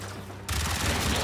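Machine gun fire in the video game Warframe, an ordinary machine gun opening up abruptly after a quiet moment and then firing in a dense, steady, loud burst to the end.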